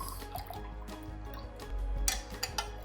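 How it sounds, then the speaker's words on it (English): Juice drains from a slightly opened can of pineapple, a soft stream of steady dripping and trickling close by, with a few louder splashes toward the end. "Open it slightly, drain out all the juice"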